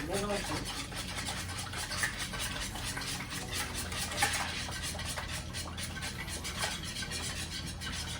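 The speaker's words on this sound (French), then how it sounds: "Et je vais mélanger." Two eggs are stirred into 350 g of flour for brioche dough, giving a continuous scraping, rubbing mix with small clicks of utensil against bowl, close and fairly soft, with a voice talking over it.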